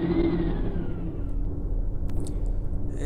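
A futuristic Tron-style vehicle in the Garry's Mod video game gives a steady, close whirring engine drone, its pitch sliding slightly downward before settling into an even hum for about three seconds.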